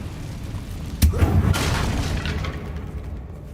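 A Confringo spell from the Hogwarts Legacy video game detonates in a single sudden booming blast, followed by a rumbling, fading roar.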